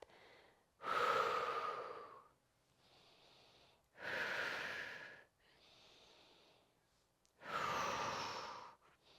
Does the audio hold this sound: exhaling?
yes